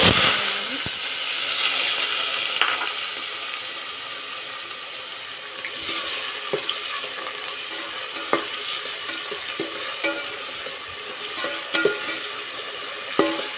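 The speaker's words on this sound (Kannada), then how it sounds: "ನೋಡಿರಿ ಫ್ರೈ ಆಗ್ತಾ ಇದೆ" Sliced onions frying in oil in a pan for chicken biryani, giving a steady bright sizzle throughout with occasional scrapes and clicks of stirring.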